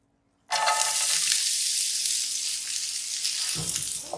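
Chopped onions hit hot cooking oil in a large pot with a sudden loud sizzle that settles into a steady, bright frying hiss, close and alone, with a faint clatter near the end.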